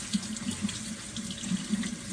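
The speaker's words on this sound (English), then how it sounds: "Wash all the coriander leaves in running water" Fresh coriander leaves are washed under running tap water at a sink, a steady close splashing stream with small gurgles and irregular plops as the leaves are handled, no talking.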